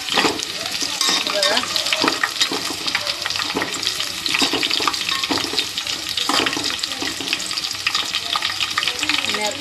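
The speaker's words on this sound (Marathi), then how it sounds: "कांदा असं तेलामध्ये मस्त फ्राय झाला आहे" Onions frying in oil in a pan for veg paneer biryani give a steady, loud crackling sizzle with scraping stirs throughout, and a voice speaks briefly over it.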